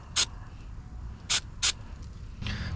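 MAF sensor cleaner sprayed onto an intake part from an Audi B9 S4 engine, three short sharp aerosol hisses close by, followed by a softer, longer spray.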